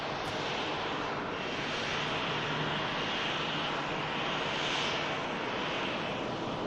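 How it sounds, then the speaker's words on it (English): A Ryanair jet arriving at Manchester Airport after a flight from Dublin, its engines giving a steady, loud broadband roar that swells and eases slightly throughout, with no voices. "Ryanair just arrived from Dublin."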